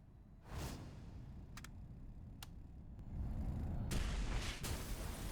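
Explosions boom in the visual novel game AI: nirvanA Initiative, a sharp blast followed by a lingering rumble and a second heavier detonation with debris later on, under a steady background drone.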